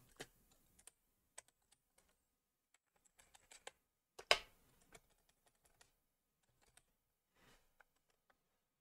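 Sparse computer keyboard typing in a quiet room while working in the Unreal Engine editor: scattered single key clicks and a few short bursts, with one louder clack midway, no talking.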